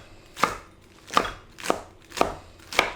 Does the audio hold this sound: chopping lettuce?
yes